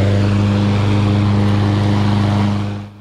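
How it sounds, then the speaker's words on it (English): Yard Force 22-inch 3-in-1 self-propelled mower with a Briggs & Stratton engine running at a steady, loud idle hum, cutting off near the end. "To start the mower, hold the orange upper bar, which allows it to start, then pull the string."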